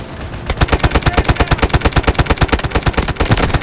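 Rapid automatic gunfire from the video game Delta Force: a fast, evenly spaced burst of loud shots that runs continuously, with no talk over it.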